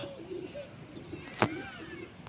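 Pigeon cooing at a spot where squabs are kept under netting, soft low coos recurring faintly through steady background noise, with one brief sharp knock midway.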